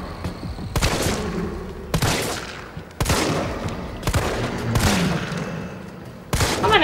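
Gunfire in the Resident Evil 3 video game, a series of loud, booming shots spaced roughly a second apart, each with a sharp attack and short ringing tail, heard without talking.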